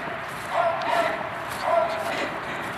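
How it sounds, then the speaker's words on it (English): A female dog, urged on during an outdoor hunt or chase, gives a few short, moderately distant barks and yips in two small bursts over steady background noise. "Now, see, she barked a little bit."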